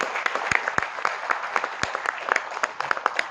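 A large audience at a gathering in Nagpur applauds itself, a broad, sustained wash of many hands clapping with a few sharp, louder claps standing out, fairly near and continuous throughout.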